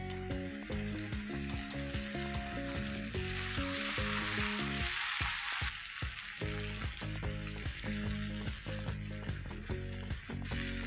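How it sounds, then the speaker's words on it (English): Tomato puree sizzling in a pan with oregano, rosemary and thyme, a loud, busy spitting fry that runs the whole time, with a brief louder burst midway. "Just saute it for about 10 seconds and add in tomato puree."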